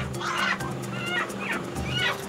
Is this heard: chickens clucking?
yes